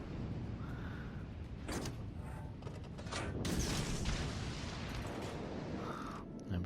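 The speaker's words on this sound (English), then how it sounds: "let's give the Hipper a couple of shots" Naval gunfire aimed at the cruiser Hipper in World of Warships, a few dull booming shots over a steady background rumble, moderately loud with no talk.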